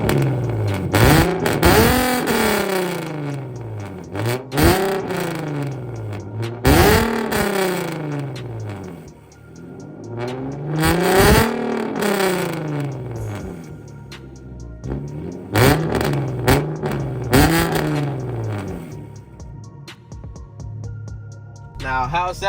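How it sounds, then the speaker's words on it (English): A car with straight pipes and no catalytic converters or mufflers, fitted with test pipes, revs hard in repeated loud bursts that rise and fall, with short idling gaps between each blip. "I gotta give y'all some revs"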